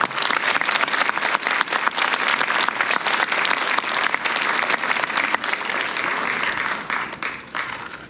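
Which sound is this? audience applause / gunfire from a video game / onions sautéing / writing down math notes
audience applause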